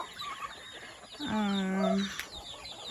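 Free-range chickens on a small farm give a brief burst of loud, close clucking in the middle of the stretch, over faint background bird and yard noise.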